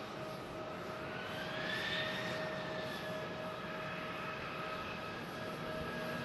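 A Delta jet at Houston's George Bush Intercontinental Airport, its engines giving off a steady, fairly loud roar with a rising whine that holds for several seconds, no voices.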